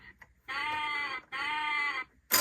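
Two drawn-out, nasal electronic goat bleats from a 2003 VTech ABC tap tap bus toy in quick succession, clear and close, followed by a brief click.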